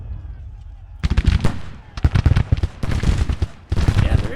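Gunfire in the Civil War strategy game Grand Tactician, dense rolling volleys of musket shots crackling in bursts with short gaps, loud and close.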